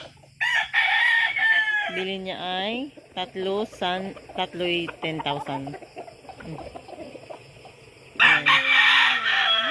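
A rooster crows loudly nearby at the start and again near the end, with someone talking in between and other chickens faintly audible.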